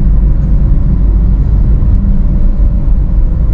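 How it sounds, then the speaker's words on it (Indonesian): A noisy air-conditioning compressor in a 2014 Honda Mobilio S manual, heard from inside the cabin as a steady, loud low drone that blends with road rumble, with no talking. "Ini sih agak kerasa sedikit ya suaranya kompresornya yang berisik tadi ya."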